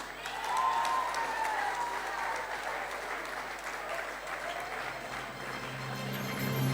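A steady round of applause from the audience at a graduation convocation ceremony, dense continuous clapping at an even level throughout.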